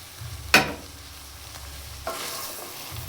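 Chickpeas with chopped onion, cooked without oil or spices, are stirred in a pan: a soft scrape, then another after a pause, over a faint low hiss.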